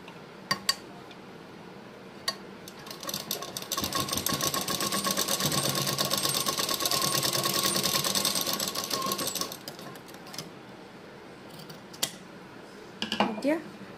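A sewing machine runs a long continuous seam on blouse fabric, a steady close mechanical whir lasting several seconds, bracketed by a few sharp clicks and handling taps before and after.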